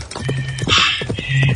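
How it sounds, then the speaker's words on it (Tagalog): A horse's hooves clip-clop in a quick, close rhythm of sharp knocks, with a short whinny-like cry rising in the middle. "Nakabati siguro sang tapak-tapak sa kabayo"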